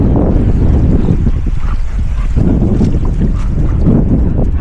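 Strong seaside wind at Margate, Kent, roars steadily across the microphone in loud, buffeting gusts with spray in the air, a constant rumble with no letup.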